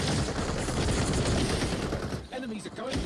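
Rapid LMG machine-gun fire in XDefiant, a loud, dense stream of close shots that cuts off near the end, with people talking over the shooting.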